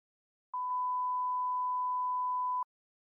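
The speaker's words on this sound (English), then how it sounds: "there is also a simple feature to create beep sounds" A single steady electronic beep programmed in SimpleRockets 2 holds one clear tone for about two seconds, surrounded by silence.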